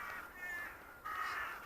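Crows perched up in a tree give two drawn-out, raspy caws, one after the other, fairly clear against a quiet outdoor background with no talking.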